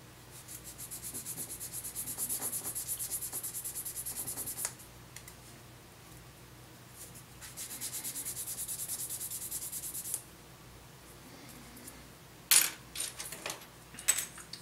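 Sanding excess plastic off a part from a Master Grade 00 Qan[t] Gundam model kit with a GN Sword 4 conversion by BTF hobby. Two long stretches of close, steady scratchy rubbing are separated by a pause, and a few sharp clicks and taps follow.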